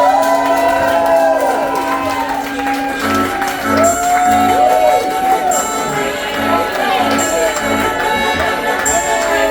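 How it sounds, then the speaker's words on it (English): A poetry slam audience in Gainesville, Florida, cheers, whoops and shouts in a dense, steady roar. Loud voices call out over the noise throughout the whole stretch. "Let's give a round of applause for Dub Dupree"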